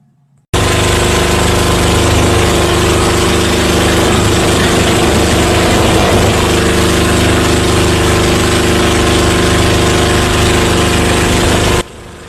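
A boat's loud, steady engine drone runs unbroken for about eleven seconds, starting and stopping abruptly, with no voices.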